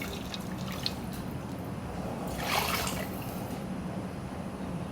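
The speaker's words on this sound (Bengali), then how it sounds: "এখন পানি দিব, পানি দিয়ে উঠাই দেবো" Water poured into a pot while making khichuri, a faint trickle and drip that swells into a brief splashing pour midway, with no voices.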